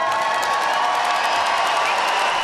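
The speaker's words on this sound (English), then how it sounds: "In a massive mark of respect from the Sydney crowd, that round of applause lasted 26 seconds." A large Sydney crowd at the NBL Grand Final applauds and cheers in a dense, steady roar of clapping and shouts that holds at full loudness throughout.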